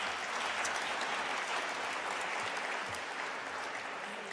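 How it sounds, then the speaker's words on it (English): Steady, dense audience applause at an awards ceremony, sustained at an even level throughout, fairly distant and diffuse, with no speech over it. "You can give that a round of applause."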